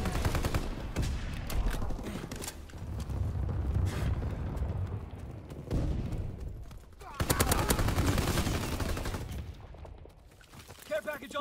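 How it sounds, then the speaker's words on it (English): Anti-aircraft fire in Call of Duty WW2, heavy bursts of rapid gunfire and booming blasts that swell and fade in loud waves, with brief lulls between volleys. "Anti-aircraft bursts commence."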